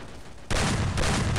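Gunfire in the mobile battle-royale game Free Fire: a loud burst of rapid shots starts abruptly halfway through and continues to the end.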